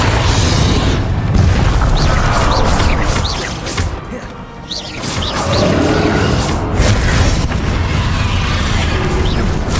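Confringo explosion spells in Hogwarts Legacy, fired during a battle with Ranrock, give a loud, dense booming roar that dips briefly and then surges again, with crackling bursts layered through it.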